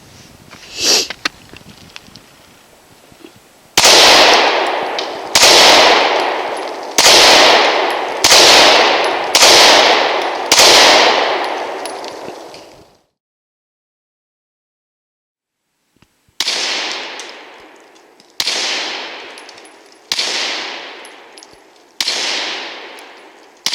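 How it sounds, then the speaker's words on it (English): A Glock 43 pistol fires at a shooting range: a string of six loud, sharp shots with ringing decay, a long pause, then five more evenly spaced shots. "I'm going to put a few rounds through it and see what I think about it."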